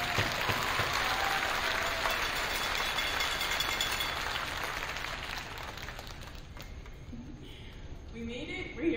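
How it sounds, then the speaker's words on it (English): Audience applause at a 2022 graduation ceremony, a broad wash of clapping filling the hall and slowly thinning toward the end, with faint voices or movement in the last seconds. "can we please give them a round of applause?"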